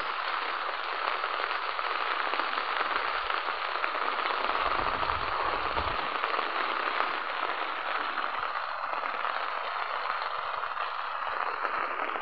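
Heavy rain pours steadily on a tomato farm, a dense continuous hiss of drops that stays loud and even throughout, with a brief low rumble midway.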